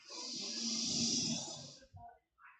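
A group of people breathe in slow unison through their noses during a guided breathing exercise, producing a long, loud, airy inhale-exhale with snore-like rasp close by, then brief softer breaths at the end.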